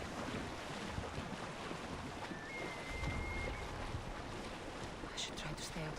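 A sailing ship moves over open water in Assassin's Creed Odyssey, with a steady, unbroken wash of waves and wind filling the scene and a brief thin tone and faint clatter near the end.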